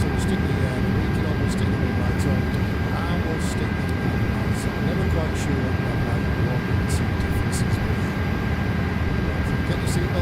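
An aircraft auxiliary power unit runs inside a flight simulator cabin, a steady, loud low roar with a thin constant whine on top that holds unchanged throughout, broken only by occasional faint clicks.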